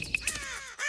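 A cartoon crow caws in a short burst of a couple of harsh calls, close and fairly loud, with no voices.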